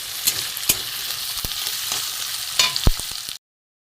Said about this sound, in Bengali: আলুটা একটু ভাজা ভাজা হোক